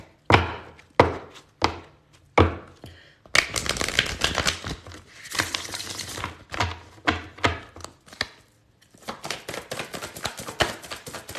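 Tarot cards are shuffled in short crisp bursts, each riffle snapping and fading, with a longer run of rapid flicking in the middle and more quick shuffles at the end, close and clear.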